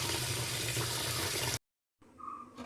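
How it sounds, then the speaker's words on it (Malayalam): Water gushes steadily into a pot for washing rice in a Kerala home kitchen, running loud for a moment, then cutting off before a quieter splash follows. "ഇതിലോട്ട് നമുക്ക് ആ കലവും വെള്ളവും എടുത്ത് വെച്ചിട്ട് അരി കഴുകിയിടാം"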